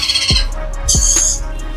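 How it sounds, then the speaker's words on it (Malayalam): Loud, harsh squawks of caged birds in a pet shop, close by: a couple of sharp cries in quick succession. "കിളികളാട്ടാ."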